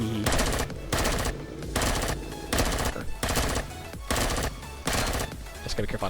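Rapid automatic gunfire from the sci-fi survival game Empyrion: Galactic Survival comes in repeated loud bursts of about a second each, separated by short gaps, with no talk over it.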